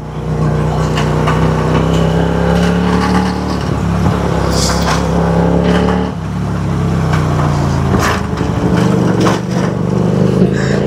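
An old Hyosung motorcycle engine roars during a race, a loud, steady drone with rising and falling pitch as it revs, running continuously with no voices.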